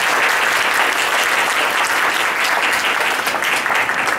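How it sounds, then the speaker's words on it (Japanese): Audience at a Japanese science-journalism talk event breaks into dense, steady applause, a continuous crowd of clapping hands sustained for several seconds without talk. "拍手で。"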